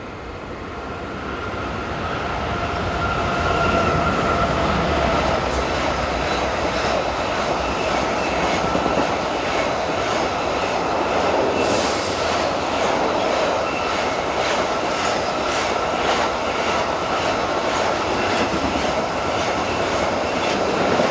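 Two electric locomotives haul a southbound freight train of coal wagons, rumbling past at close range with steady rolling noise and rhythmic wheel clatter that builds after a quieter start and continues to the end.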